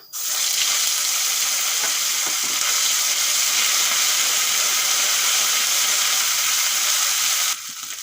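Ginger paste, turmeric and whole spices hit hot oil, bursting into a loud, continuous close sizzle that holds steady for several seconds before easing slightly at the end.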